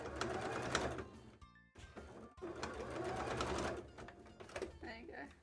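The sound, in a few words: sewing machine sewing a cosplay tail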